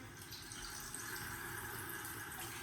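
Warm tap water runs steadily from a faucet into a sink during face washing, a continuous close hiss with light splashing and no talking.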